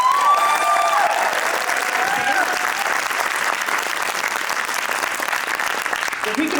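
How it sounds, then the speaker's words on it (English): Loud, continuous applause fills a hall as an audience claps on cue at a storytelling event, with faint whistles or cheers briefly rising over the dense clapping. "So let me hear you clap. Let's clap."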